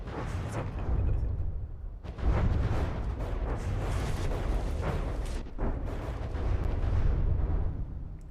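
Weapons firing fragmentation shells in the naval combat game From the Depths, a dense, continuous roar of overlapping booms and blasts with several sharper bursts standing out, loud throughout with no speech.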